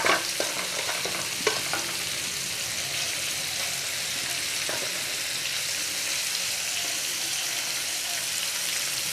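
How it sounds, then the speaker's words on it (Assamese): Paneer frying with spices in a pan over a gas flame, a constant loud sizzle with a few scraping stirs and knocks of the spoon early on. "বেছি সময় নহয়, অকণমান ভাজিব লাগিব।"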